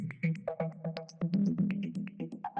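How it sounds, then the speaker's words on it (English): A progressive house synth track run through the Tantra plugin gives choppy step-modulated plucks in a rapid stuttering rhythm, with shifting bright filtered blips over a steady low tone, clear and alone. "Just can switch through a few presets and you get very weird modulation on the sound."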